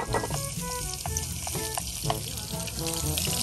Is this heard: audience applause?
no